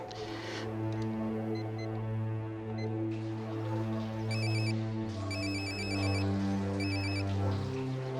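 A telephone rings in short repeated bursts, fairly close, over a steady low musical drone in a French-language television drama, with no talking.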